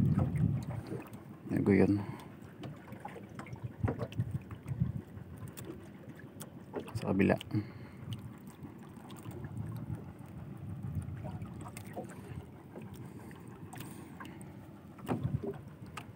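Fishing boats on open water, with wind buffeting the microphone and faint engine and water noise under intermittent nearby voices.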